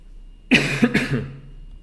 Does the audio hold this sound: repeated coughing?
yes